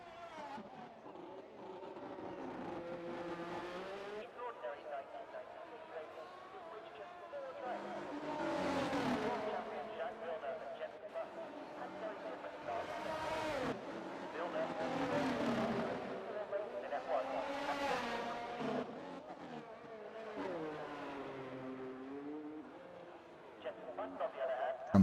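Formula 1 race cars lap the Monaco circuit in an F1 racing game, engines whining and rising and falling in pitch as cars sweep past, with a commentator talking over the steady engine drone.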